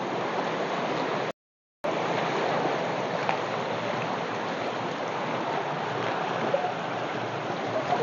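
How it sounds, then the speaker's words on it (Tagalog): Strong flood water rushes past in a broad, steady roar, loud and close, broken by a brief dropout near the start, with no one talking over it. "Ito na yung lakas ng tubig rito"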